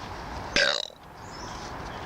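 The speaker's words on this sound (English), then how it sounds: "As you can see, I'm burping." A woman lets out a single short burp, close and fairly loud, that ends in a rattling tail, with quiet room noise around it.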